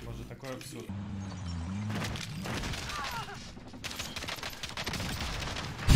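Continuous gunfire in Call of Duty Warzone, a steady chatter of shots and bursts running through the whole stretch under someone talking excitedly over it, with a sharp louder report at the very end.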